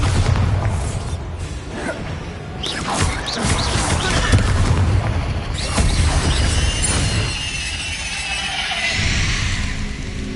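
Bombarda blasting spell explosions in Hogwarts Legacy, a string of loud booming crashes and bursts over continuous game ambience and effects, with several sharp impacts spread through the clip.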